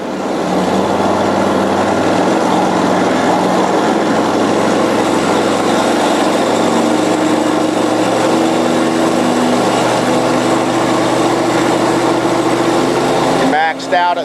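Twin-engine hot and cold water sewer jetter trailer running steadily, its engine droning loud and close as the throttle is raised toward 3,000 RPM, with a voice talking over it and a brief clunk near the end.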